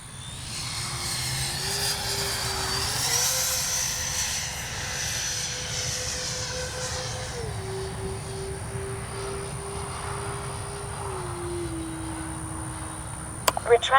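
A radio-controlled model bomber-style airplane flies past making strafing runs and flybys, its engine drone holding steady and shifting pitch in stages as it passes, with a sharp clatter near the end.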